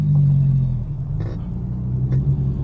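Steady low engine rumble from a Ford Sport Trac cruising down the road, a deep continuous drone with slight swells and no voices.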